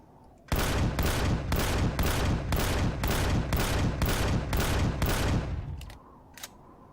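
Turret gunfire in the game Empyrion: Galactic Survival during an assault on a Xenu fortress: about eight evenly spaced, loud blasts in a rapid steady rhythm, then a fading tail and one faint later shot.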